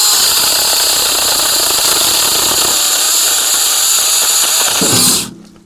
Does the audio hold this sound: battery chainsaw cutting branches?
yes